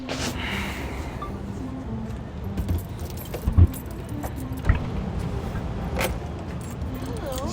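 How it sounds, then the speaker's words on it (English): Keys jangle and clink close by in a parked RV, with a few sharper metallic knocks, amid background rustling and a faint vehicle rumble. "Here, got the keys."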